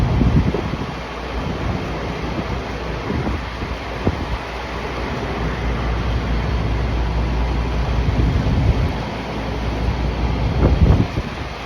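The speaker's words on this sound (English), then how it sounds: "Wind's unbearable." Strong wind sweeps across a rooftop where AC units are being fitted, producing a loud, constant low roar with gusty buffeting against the microphone and no voices.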